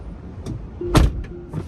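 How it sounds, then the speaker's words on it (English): Electric motor whir and soft thuds as Tesla Falcon Wing doors close: a few brief mechanical clunks with one louder latch thump in the middle, close by in a quiet setting. "I closed the Falcon Wing doors."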